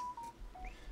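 A mobile phone chimes with a short, faint tonal alert, a few thin beeping tones rising and falling over about a second against quiet background.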